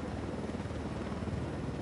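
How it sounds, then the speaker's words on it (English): A cartel helicopter in the video game Ghost Recon, a steady loud rotor drone with a dense low rumble that holds on without a break, no voices over it. "Although this is a cartel helicopter,"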